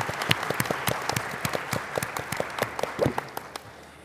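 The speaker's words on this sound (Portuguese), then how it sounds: "Então, uma salva de palmas aqui para essa premiação." Audience applauding an award presentation for a human rights and diversity seal, distinct individual claps from a fairly small group in a loose, uneven rhythm, close and clear, thinning out at the end.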